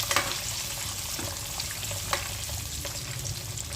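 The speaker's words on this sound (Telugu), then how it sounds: "ఫస్ట్ వేసుకుంటే ఏమవుతుందంటే మనకి ఆయిల్ అనేది పైకి తోలుతుంది." Eggs frying in hot, splattering oil, a steady sizzle with scattered crackling pops and clicks throughout, fairly close and with no talking.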